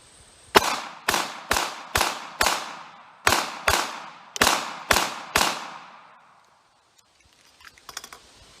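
Ruger LCP Max .380 ACP pistol firing Carbon City ammunition in a torture test, ten sharp shots in quick irregular succession, each with a short ringing decay, then quiet with faint handling clicks.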